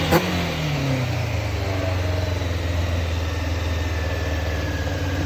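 A Honda CBR600F4 motorcycle engine idles steadily at about 1500 RPM after carburetor cleaning, a continuous low rumble with a brief revving flare at the start, recorded close.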